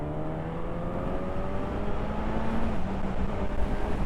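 Suzuki GSX S950 motorcycle accelerating hard in third gear, its engine note rising steadily in pitch under a constant loud rush of wind, heard from the rider's position.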